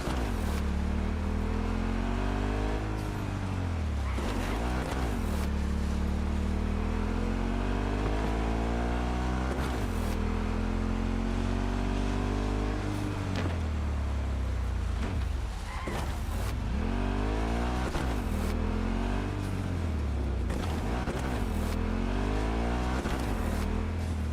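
Motorcycle engine droning steadily while riding in the video game Cyberpunk 2077, with repeated rising and falling revs as it accelerates and shifts, loud and continuous with no talking.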